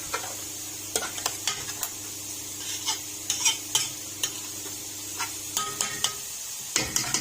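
A spoon scrapes and clanks repeatedly against a pot of basmati rice that sizzles steadily, the stirring knocks coming in an irregular rhythm close up, with no voices.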